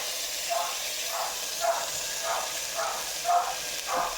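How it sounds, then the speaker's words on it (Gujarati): Cumin, asafoetida and ginger-green chili paste sizzle in hot oil for a tempering, a steady close hiss that swells in soft rhythmic pulses, with no talking. "વઘારમાં આપણે જીરું નાખીશું, હિંગ નાખીશું, પછી આદુ લીલા મરચાં નાખીને પેસ્ટ નાખીશું."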